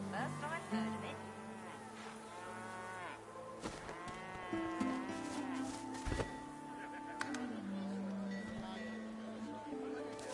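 Cows mooing in a PS4 game, several long lowing calls overlapping under buzzing flies and insects, with game voices talking over a quiet ambient background.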